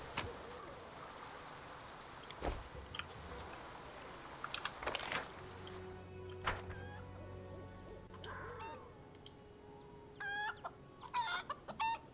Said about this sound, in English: Okay, chickens. We know you're excited that the Knight Commander is here, but keep it quiet, please.